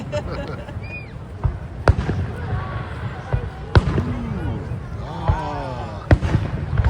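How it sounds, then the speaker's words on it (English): Fireworks over the water at Niagara Falls: sharp booms and crackling bursts pop repeatedly over a steady crowd murmur, with a few distant whistling streaks rising between the blasts. "fireworks over the water"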